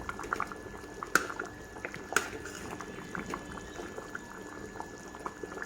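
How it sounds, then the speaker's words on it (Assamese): Local chicken curry with raw pepper corn bubbles in a pot on a gas stove, the soft simmer punctuated by a couple of sharp clinks as the lid is handled. "এয়া ভাঙি চাইছোঁ, উতলি আছে।"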